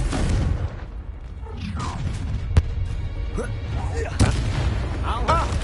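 A Confringo explosive spell from Hogwarts Legacy bursts in a couple of sharp booming blasts over a rumbling battle backdrop, with voices mixed in.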